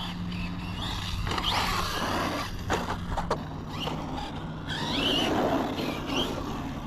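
Traxxas Sledge 6S RC monster truck running with a loud, steady high-pitched motor whine and rough driving noise throughout, swelling slightly toward the end.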